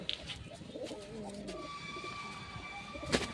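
A double-barred pigeon coos softly in low, throaty notes, with a few brighter chirps from other birds and a faint sustained tone nearby.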